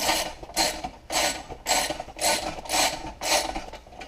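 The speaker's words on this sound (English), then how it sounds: "I tighten these 4 bolts up on the starter cover." A ratchet tightening the bolts on a starter cover, several rhythmic bursts of rapid clicking close by, evenly spaced about half a second apart, with no talk.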